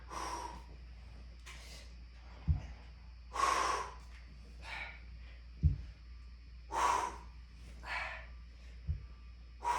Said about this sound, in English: Make sure you breathe in, you breathe out as you are flat.